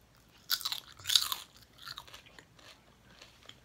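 Crispy skin on homemade chicken is bitten and chewed up close, two loud crunchy bursts followed by quieter wet mouth sounds, with no talking.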